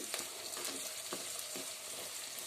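Soya chunks fry quietly in a pan, a faint, even sizzle with a few soft stirring scrapes.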